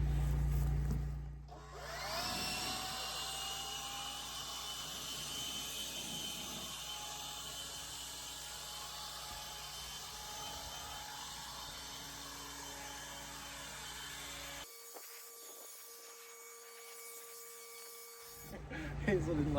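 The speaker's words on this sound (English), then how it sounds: "But let's blow it off, clean it up." Leaf blower clearing debris off a wooden deck at an off-grid forest property, a steady loud whooshing roar that cuts out abruptly near the end, followed by quiet and a brief restart.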